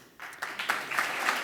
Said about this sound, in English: Do I need to keep pausing for us to keep clapping?